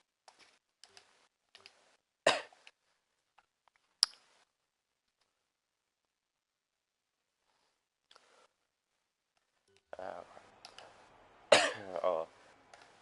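Several harsh coughs and throat-clearing bursts from a person nearby, scattered among quiet stretches with faint keyboard typing and clicks, ending in a louder cluster of rough coughs.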